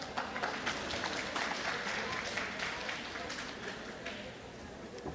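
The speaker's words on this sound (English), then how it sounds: "Yeah, you could clap." Audience at a time management lecture clapping, a dense steady wash of many hands heard from a distance on a cassette recording, continuing evenly for several seconds.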